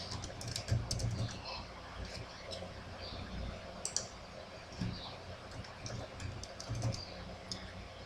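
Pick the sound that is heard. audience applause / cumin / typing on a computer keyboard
typing on a computer keyboard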